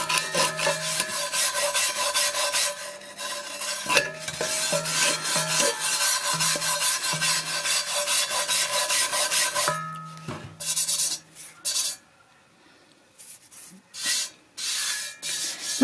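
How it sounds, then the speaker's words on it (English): Steady rasping scrub on a cast iron skillet being cleaned over a fire, working continuously with brief pauses, close and loud, ending in a few short strokes. "Scrub it a little bit more and then take it in the house and wash it."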